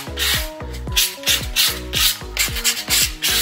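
Sandpaper rubs back and forth over damaged paint to dull the surface, about a dozen quick, even scraping strokes in a steady rhythm, close and clear with no voices.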